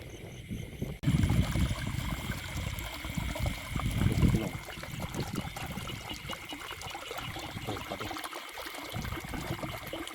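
Water flowing and trickling through a flooded rice field, a steady close wash with splashy, louder pulses near the start, no talk.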